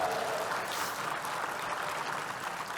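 An audience at a climate-solutions benefit event applauds in a steady, dense wash of clapping from many hands, sustained and moderately loud throughout.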